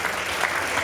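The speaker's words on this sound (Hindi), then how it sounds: "लगातार ताली बजाए साथियों" Audience at a workers' union retirement ceremony clapping steadily and continuously, a dense wash of many hands applauding together for a brief moment.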